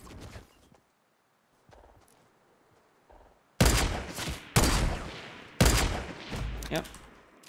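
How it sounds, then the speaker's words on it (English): Gunshots ring out in the Fortnite video game: after quiet footsteps and faint noises, three loud, sharp blasts come about a second apart, each trailing into echoing rumble. "I heard shots"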